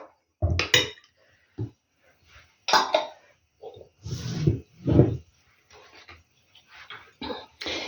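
A spoon scrapes and clinks against a bowl of oil-based sauce in irregular bursts, with a brief cough among the stirring noises.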